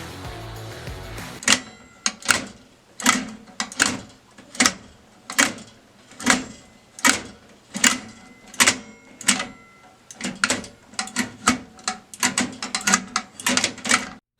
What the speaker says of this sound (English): the shifter and steering wheel can both be extremely loud at times